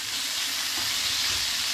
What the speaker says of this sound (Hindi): इसमें हम डाल देंगे अपने ये छोले, अच्छे से फ्राई करेंगे हम इनको